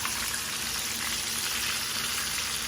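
Chicken fried chicken sizzles steadily in a frying pan, a dense, even crackle of hot oil that holds at a constant level throughout with no voices.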